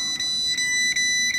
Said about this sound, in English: Just kind of beeps.